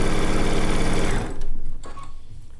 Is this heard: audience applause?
no